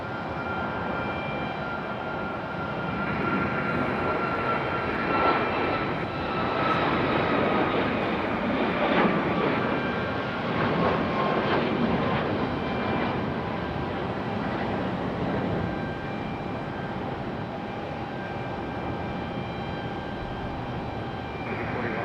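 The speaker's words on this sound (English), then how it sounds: "And our next departure is already on the move. Looks like United." A United Boeing 737 jet departs down the runway at Raleigh-Durham International, its engine roar steady and broad throughout, swelling slightly mid-run before holding level.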